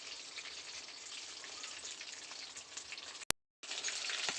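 Chicken kebab pieces frying in hot oil give a steady, dense sizzle with crackling spits throughout, cut by a brief sharp click and a moment of silence before the sizzling resumes.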